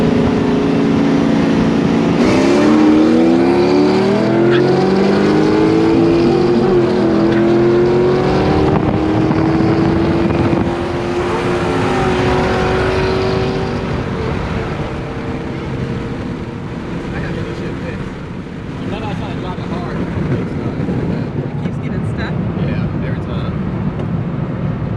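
A C5 Corvette Z06 racing, its engine droning loudly and continuously with rising and falling revs as it accelerates, close up throughout, while a voice talks over it.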